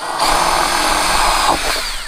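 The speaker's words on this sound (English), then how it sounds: "it's pretty easy to drill them" Power drill boring holes in the plastic cover of a Razor SX-500 McGrath electric dirt bike, a steady loud whine that runs the whole time and dips briefly near the end.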